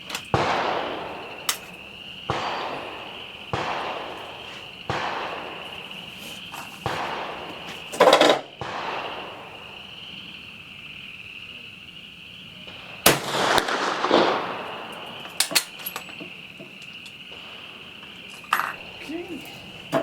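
Repeated sharp gunshots from a Mle 1866-74 French Gras rifle fired at 100 yards outdoors, loud single cracks spaced seconds apart over a constant high hum, with brief handling clatter between shots.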